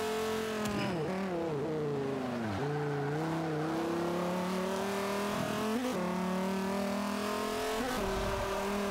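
The #91 SRT Viper race car in Forza 5 drives with a loud, continuous engine roar. Its pitch climbs and drops sharply through gear shifts and throttle lifts, with brief tire squeal.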